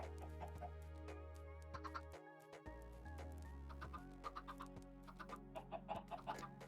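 Chickens in a Minecraft farm cluck in short, repeated bursts over a steady game music background, fairly faint, with no one talking.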